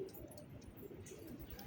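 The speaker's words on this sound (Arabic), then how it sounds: "هيا جانا طير" A pigeon arriving at a loft coos softly, a low murmuring call under faint background noise, quiet and close.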